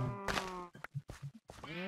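Cattle in Minecraft give several short, tonal bleating moos in quick succession, close and clear with brief gaps between calls and no talking.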